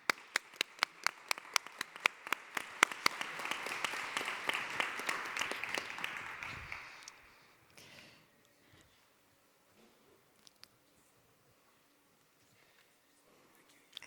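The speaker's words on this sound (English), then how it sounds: "Please give them a round of applause." Audience at a talk on panic, neuroscience and culture applauding two presenters, a few distinct claps swelling into steady applause that dies out after about seven seconds into near silence.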